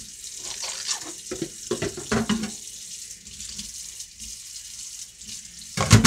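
Running tap water pours into a kitchen sink while used cooking utensils are rinsed and washed, with clinks and splashes coming through steady water flow, close by.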